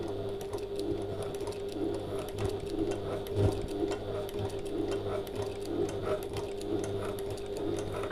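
A sewing machine stitches a fabric passport folio at a steady, even pace, its quiet mechanical hum and fine needle ticking continuing throughout at close range with no talking.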